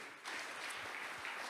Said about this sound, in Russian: Давайте наградим аплодисментами Каролайн Поли.